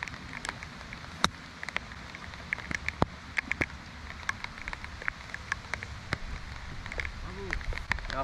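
Heavy downpour on a golf course, a dense patter of rain with sharp drops striking close by, steady and moderately loud.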